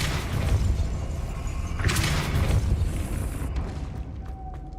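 In Hogwarts Legacy, the Depulso spell is cast with a rushing whoosh and a deep booming burst that swells midway, then tapers off.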